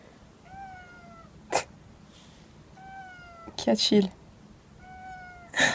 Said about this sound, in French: Quand t'entends ton chat arriver.